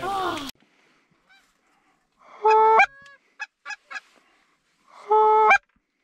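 Specklebelly geese honk during a North Dakota goose hunt, with three loud bursts of layered honking calls and a few short single honks between them, close by, preceded by a brief noisy burst.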